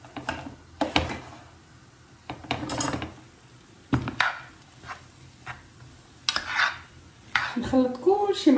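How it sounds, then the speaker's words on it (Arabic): A spoon stirs and mixes a pastilla filling in a pot, giving intermittent scraping and clinking strokes, some louder than others, spaced irregularly with brief pauses between. "نخلط كلشي مع بعضو باش ياخذ حقه"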